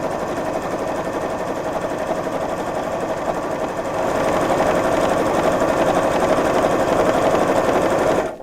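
A sewing machine runs continuously at a longer 2.8 stitch length, top stitching a quilted tote, a fast steady mechanical chatter that grows slightly louder midway and stops abruptly at the end.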